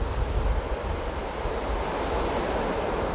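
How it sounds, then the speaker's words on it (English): Ocean waves at Rockaway Beach, New York, wash in a steady, close roar of surf with wind noise over the microphone. "enjoy the sound of the ocean waves"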